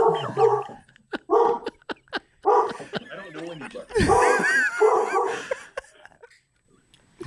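A dog barks in short bursts and then whimpers and whines, close and loud, while a person talks between the sounds.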